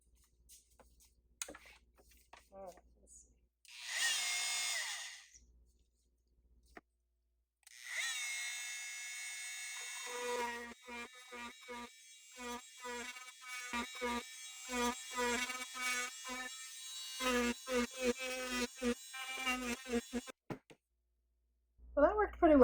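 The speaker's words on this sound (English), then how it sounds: "Oh, maybe my multi-tool." An oscillating multi-tool cuts into the plastic housing of an IcyBreeze air conditioner in two loud, buzzing bursts, each a few seconds long, followed by a stretch of close talking with scattered short buzzes.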